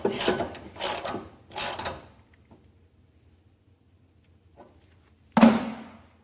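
A hand ratchet clicks in three quick bursts while snugging the grease plug back into the auger gearbox of a Murray Estate dual-stage snow blower, followed by quiet, a faint tap and a final sharp clack.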